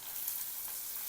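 Onion with cumin and green chillies sizzles steadily in hot oil in a wok while besan upma is being made, a dense, even frying hiss with no talk over it.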